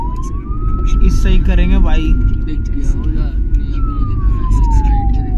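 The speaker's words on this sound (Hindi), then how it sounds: "तो अभी पुलिस वाली लाइट जलाई और अपना ये जलाया सायरन" A police vehicle's siren wails in a long, slowly rising and falling tone over loud engine rumble in zero-visibility conditions near Kainchi Dham, Nainital, India, while someone talks over it.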